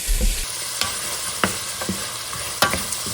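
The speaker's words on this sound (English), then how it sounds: "I've been stirring it now for about 3 minutes." Sausage frying in a pot for bayou-style swamp soup, stirred steadily: a continuous sizzle broken by sharp scraping clicks of the utensil against the pot at irregular intervals, close and moderately loud with no talking.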